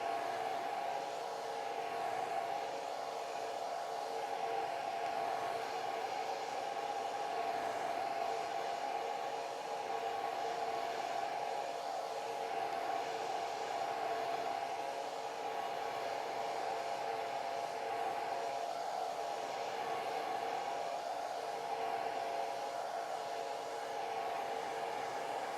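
A hair dryer blows steadily and loudly at close range to dry a watercolor landscape painting of a covered bridge, a continuous whooshing hum with no breaks.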